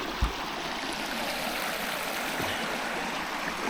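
A winter creek runs over stones between icy banks, a steady close rushing and gurgling of flowing water with no talking, plus one soft thump near the start.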